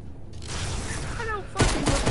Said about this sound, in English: I hear gunshots from you.